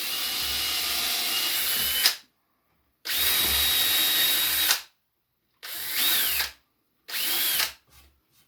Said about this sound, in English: I pre-drill that just so I'm sure this goes down in there pretty easy to start